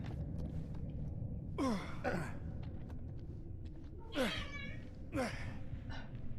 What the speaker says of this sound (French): J'entends mes chats se battre.